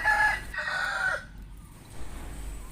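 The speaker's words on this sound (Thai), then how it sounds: "ก็บรรยากาศบ้านๆนะครับ มีเสียงนก เสียงไก่นะครับ" A rooster crows loudly nearby in a rural village, a drawn-out call that fades into quieter ambient bird and chicken sounds.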